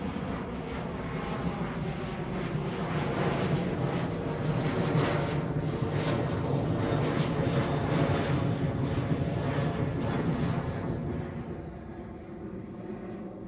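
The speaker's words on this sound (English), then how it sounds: "Ryanair 737-800 coming in from Milan." A Ryanair Boeing 737-800 landing at Manchester Airport in wet weather gives a steady, loud broadband jet roar that holds for over ten seconds and eases slightly near the end, with no voices.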